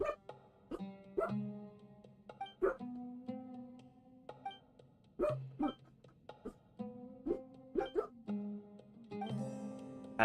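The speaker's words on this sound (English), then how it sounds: "Hi, puppies. Shush." Two puppies bark and yip indoors in repeated short, high, pitched bursts, close and fairly loud, with brief whimpering tones between the barks.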